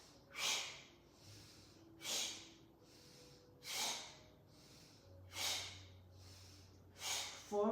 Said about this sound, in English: draw the knee to your chest with your sharp exhale